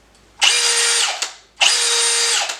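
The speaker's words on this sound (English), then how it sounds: "You can't put the drill up without making sure it No, works. no, you can't, and that thing goes." A Milwaukee brushless power drill runs in two loud, steady bursts of about a second each, its high whine spinning up sharply, holding, then cutting off with a short pause between, close and alone.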